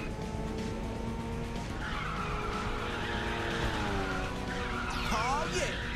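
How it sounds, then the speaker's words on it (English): Nitrous boost fires in the racing game Ridge Racer 6, a rising whoosh near the end layered over steady engine drone and screeching tire skids. "Right, let's use our double nos now."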